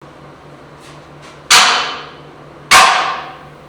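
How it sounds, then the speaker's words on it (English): Two sharp metallic hammer strikes on a welded tubular front end for an S10 truck, about a second apart, each ringing briefly before fading, with faint taps before the first. "So I'm going to hit it with a hammer."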